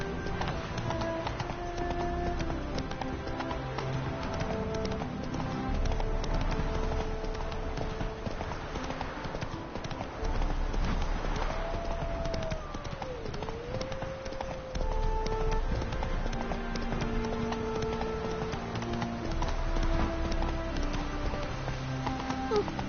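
Roach, a horse in The Witcher III: Blood and Wine, gallops with a steady clip-clop of hooves, close and continuous beneath orchestral game music for over twenty seconds.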